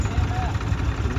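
A Farmtrac 60 tractor idles with a deep, steady low rumble close by, while someone talks over it.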